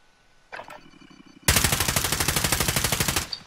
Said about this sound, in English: I'm shooting one on my front and there's one behind me